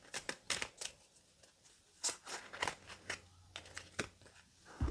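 Tarot cards are shuffled and drawn by hand, with a string of crisp, close riffling snaps and soft slides coming in irregular bursts, faint and alone in a quiet room.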